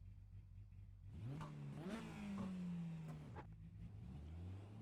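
A race car's engine revs and accelerates up through rising pitch sweeps in the pit lane, loud and close, holding strong throughout with a brief drop before climbing again.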